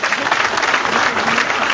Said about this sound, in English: Give her another hand clap.